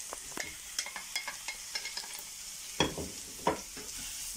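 Onion and pepper stirred in a hot pan for a potato and chicken dish, giving a soft sizzle broken by scraping stir strokes and a couple of sharper clacks near the end, with no talking.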